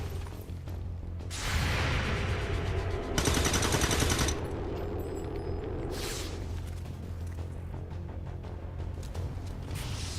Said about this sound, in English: You're gonna trigger a lot of people shooting at you.